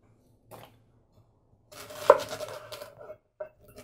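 A knife chops through fennel stalks on a cutting board, with a few short, sharp cuts and a brief flurry of crunchy slicing in the middle, close and fairly quiet.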